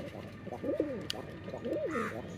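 A Gorra pigeon coos close by in two distinct rolling phrases, each a low throaty warble rising and falling, over a faint room hum, with a brief click between them.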